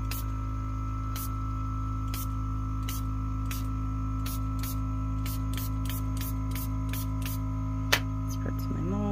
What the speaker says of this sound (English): I am just going to spritz the tops.